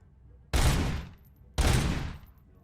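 Two loud, heavy bursts of gunfire from a gun in the Robocop video game, each lasting well under a second and separated by a short pause, with no talking.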